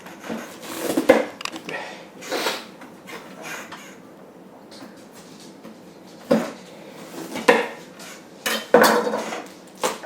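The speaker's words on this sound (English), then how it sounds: "Here's how we cut a pumpkin in half." A pumpkin being cut in half on a kitchen counter, giving scattered knocks, scrapes and clatter of the knife and cutting board, with quiet gaps between louder bursts, close by.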